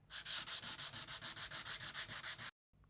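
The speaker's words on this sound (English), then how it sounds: "And give it a light sand." Sandpaper rubs lightly over a door before painting, in a quick run of about fourteen even back-and-forth strokes. The strokes are close and rhythmic, then the sound stops abruptly.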